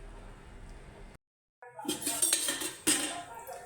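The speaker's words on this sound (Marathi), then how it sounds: "आता मी हे ताट बनवते पटकन आणि नैवेद्य दाखवते" Dishes clink as a plate of varan bhaat, puranpoli and ghee is arranged, after a quiet start and a brief silence, then several close metallic taps and clatters.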